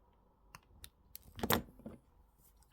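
A few sharp, brief snips as wire cutters trim the ends of jewellery wire on a wire-wrapped earring, close and quiet, with one louder cut in the middle.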